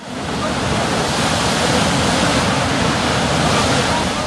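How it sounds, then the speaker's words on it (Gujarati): A huge fountain of water gushes up from a borewell and floods the surrounding fields, producing a loud, steady roar of rushing water like heavy surf that holds constant throughout with no pauses. "પેટાળમાંથી પાણીનો જબ્બર ફુવારો"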